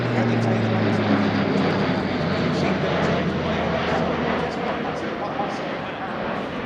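An Airbus A400M Atlas military transport aircraft of the German Air Force performs a flying display at an air show, its turboprop engines giving a loud, steady roar with a droning propeller hum throughout.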